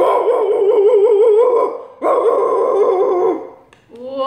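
A person imitates the loud bark of a big country dog, two long, strained vocal bark-howls with a short gap between them, close and loud, followed by other people reacting with brief speech.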